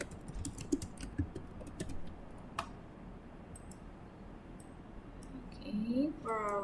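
Typing on a computer keyboard, light scattered key clicks and taps, faint and intermittent, with a voice speaking near the end.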